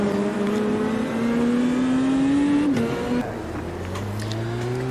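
Race car engine from the Automobilista 2 sim racing game, revving steadily upward with rising pitch, briefly cutting out for a gear change, then pulling again at a lower tone, loud and close with no talking.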